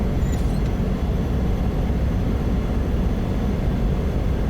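A Cessna 208B Caravan turboprop holds a steady high idle in a flight simulator, a loud, even droning roar that stays constant throughout with no change in pitch.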